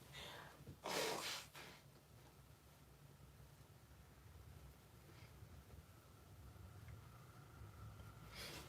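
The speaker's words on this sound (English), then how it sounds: "I need to blow my nose." Someone blows their nose in a quiet room, one short forceful blast close to the microphone. Soft breathing and faint rustling follow, with a lighter sniff near the end.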